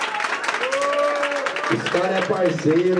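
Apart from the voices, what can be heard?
applause for the two battle contestants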